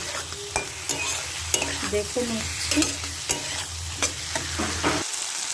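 Flat beans sizzle steadily in a hot pan while a utensil scrapes and stirs them in repeated strokes, with a brief spoken phrase.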